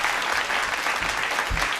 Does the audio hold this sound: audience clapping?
yes